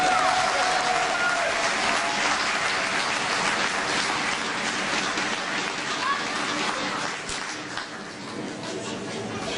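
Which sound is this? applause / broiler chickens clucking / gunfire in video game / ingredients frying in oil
applause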